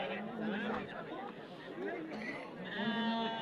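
Sheep bleat at an outdoor livestock bazaar, their calls rising over a steady hubbub of people chattering and bargaining nearby.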